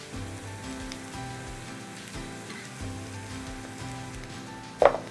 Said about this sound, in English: saute for about 2 to 3 minutes until the onions are soft